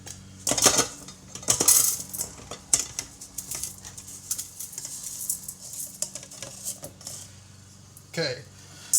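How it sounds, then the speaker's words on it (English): Food goes into a rice cooker pot while preparing a sausage skillet, with clattering knocks of dishes and utensils, a few sharp clinks early on and a scrape near the end, faint voice in the background. "Okay, I put it in the rice cooker."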